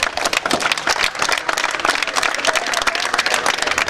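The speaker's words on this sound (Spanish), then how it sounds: "Un aplauso pues para..." Audience applause at a community gathering where beneficiaries are announced, dense continuous clapping from many people, loud and close, sustained throughout without pause.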